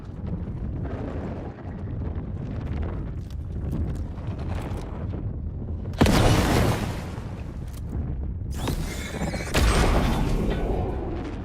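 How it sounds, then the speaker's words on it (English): Rocket flares fire in the video game Alan Wake 2: two loud whooshing bursts arrive several seconds apart over a steady windy, rumbling ambience, each flaring sharply and then hissing away. "time to use one of these rocket flares for something."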